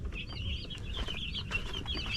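Small chicks cluck and cheep continuously at a backyard feeding in the evening, a busy overlapping chorus of high chirps close by, with no talking.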